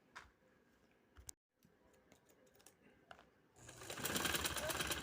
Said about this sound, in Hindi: आगे आस्तीन की मैं सिलाई लगा रही हूँ।